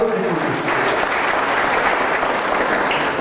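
A radio event audience bursts into steady, dense applause that fills the whole stretch, loud and close, with faint crowd voices mixed in.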